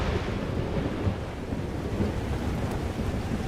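Video game thunderstorm in Life is Strange Double Exposure: continuous heavy rain and wind rush with low rumbling, a steady dense wash of noise without a distinct thunderclap.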